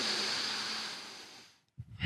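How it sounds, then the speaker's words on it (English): A deep, drawn-out exhale rushes close to the microphone during a deadlift warm-up stretch, fading over about a second and a half, followed by a brief pause and the start of a quick inhale. "One more breath here."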